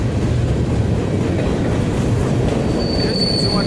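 A long BNSF manifest freight train, led by BNSF 6049, 7038 and 6884 westbound at La Crosse, Wisconsin, rolls past in a loud, steady rumble of railcars, with a thin wheel squeal rising near the end.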